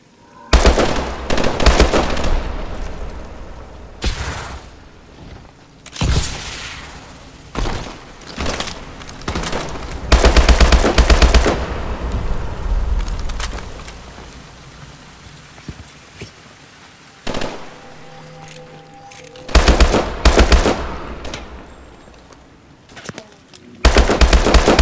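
Rapid automatic gunfire in Call of Duty Advanced Warfare comes in loud repeated bursts with brief lulls between them, under intermittent voiced dialogue and game ambience.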